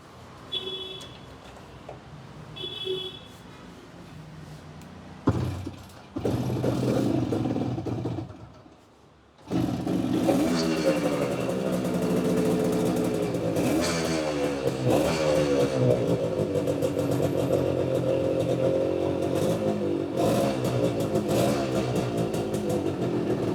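A restored vintage motorcycle, a KB 100 from a Bangalore restoration shop, clatters briefly, goes quiet, then catches and settles into a steady, loud running idle with repeated revving that carries on to the end.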